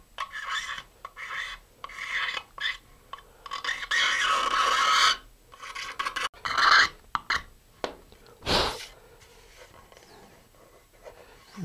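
An X-Acto knife scrapes along a seam on a fiberglass rocket kit in close, rasping strokes of varying length, some long and loud, others short and scratchy, with pauses between them.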